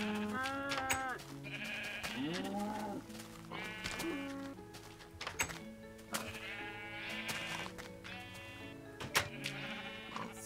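Many sheep bleating in the Minecraft survival game, overlapping nasal calls repeating constantly at close range and fairly loud, with a steady game background beneath.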